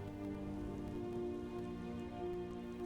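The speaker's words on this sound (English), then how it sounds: "this is late afternoon on a rainy day" Steady rain in the Skyrim video game on a late afternoon, a dense, even patter that continues unbroken throughout, with some faint tonal hum beneath and no voices.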